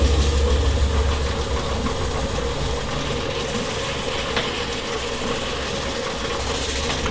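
Wood lathe running steadily while a beaded wooden platter is sanded, a continuous loud mechanical hum and rumble with a faint scratch of abrasive, no talk over it.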